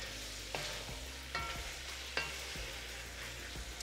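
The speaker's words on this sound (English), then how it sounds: "Stir that in also." Ginger and garlic paste stirred into sizzling beef in a pan, a steady close frying hiss with several scraping spoon strokes.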